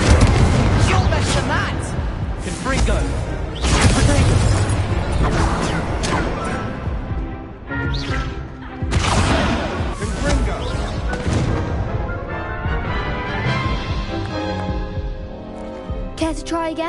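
Confringo and Incendio spell blasts from the video game Hogwarts Legacy, a run of loud booming explosions layered over dense combat effects and music, with a character's voice calling out between hits.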